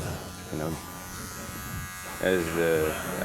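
Electric clippers buzz steadily as they trim a beard with the grain, running close and continuous, while someone talks over the hum throughout.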